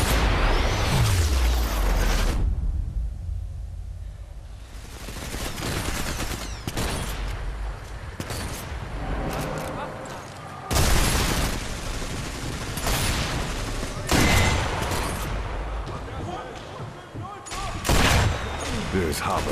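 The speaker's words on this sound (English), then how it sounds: "And that's the artillery." Artillery fire in the Sniper Elite 4 video game: a series of loud booming blasts and bursts of gunfire, several sharp broadband impacts spaced across the stretch, over a rumbling battlefield background.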